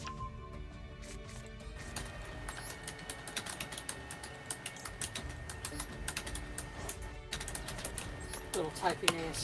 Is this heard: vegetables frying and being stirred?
no